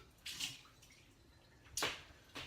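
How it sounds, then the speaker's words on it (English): A coffee infuser is rinsed under a running tap in two quick, faint splashing bursts separated by a quiet gap. "I just rinse that out real quick."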